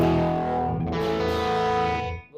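Electric guitar chord through a captured Vox pedal preset with slight grit, ringing loudly and sustaining for about two seconds before cutting off.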